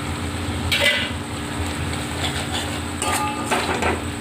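A spatula scrapes and knocks against a pan while chicken and potato patty filling is stirred dry, with repeated metallic clatters over a low steady cooking hiss, no voices.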